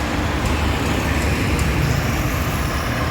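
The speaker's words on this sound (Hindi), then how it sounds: "ट्रैफिक।" Steady road traffic idling and passing at a red light in an Indian street, a continuous broadband rumble of cars, buses and trucks, fairly loud and close, with no voices.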